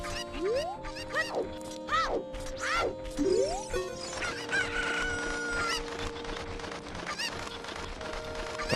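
Game chickens from The Legend of Zelda: Ocarina of Time crow and cluck in a busy overlapping chorus, with rising squawks and honking calls over a steady background tune, loud and close throughout.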